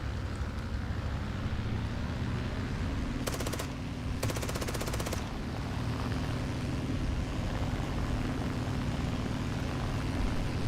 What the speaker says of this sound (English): Авиация на подлете!